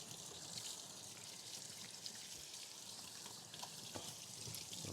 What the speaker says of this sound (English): Just gonna wash our hands real quick